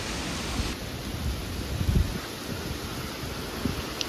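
Heavy rain falls in a windy storm, a broad steady roar with a few low rumbling bursts of distant thunder near the middle, no voices.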